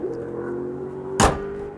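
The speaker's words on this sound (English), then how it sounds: "That noise is the Hennessy Venom, which is being tested here." A Hennessy Venom supercar engine being tested: a steady engine hum drones throughout, joined near the end by a short loud burst that swells briefly before settling back to the drone.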